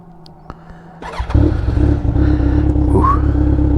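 A 2016 Kawasaki Ninja 1000 motorcycle engine starts with a sputter, then settles into a loud, rough idle with a sharp rev blip near the end.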